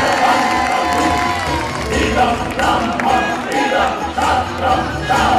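A large crowd at an outdoor Ramlila event and awards ceremony bursts into loud, sustained applause with cheering, whoops and children shouting, a dense continuous roar throughout.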